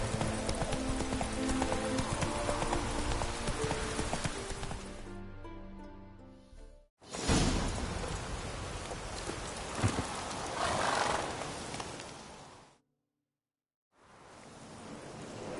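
A horse gallops in The Witcher 3 with rapid, rhythmic hoofbeats over a constant wash of game noise, broken by sudden cutouts and a brief silence.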